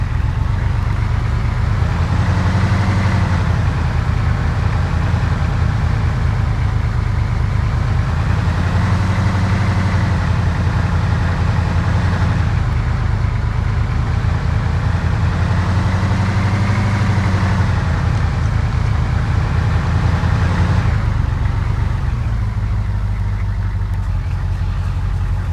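Heavy-duty truck engine idling in a snowy Namalsk map of a survival video game, a loud, low, continuous rumble with slow rhythmic swells and no voices.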